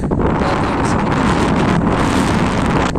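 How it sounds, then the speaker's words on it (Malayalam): Strong dust-storm wind at a camel farm in Makkah buffets the microphone in steady, roaring gusts with a rushing, noisy texture throughout, no voices present. "പക്ഷെ ഇവിടെ കാറ്റുണ്ട് പൊടിക്കാറ്റുണ്ടായതുകൊണ്ട്"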